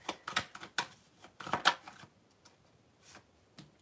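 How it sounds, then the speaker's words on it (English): Cards are shuffled in quick riffling bursts, a crisp flurry of flicks followed by a few scattered taps as the deck settles. "That was a sloppy shuffle."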